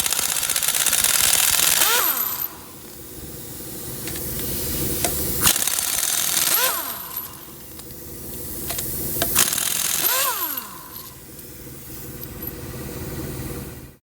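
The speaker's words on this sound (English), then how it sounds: "Step 2, remove the lug nuts." Lug nuts being removed from the front wheel of a 2006 Ford E350 Savana van with a pneumatic impact wrench, three long loud rattling bursts, each winding down in pitch, separated by short pauses, close and with no talking.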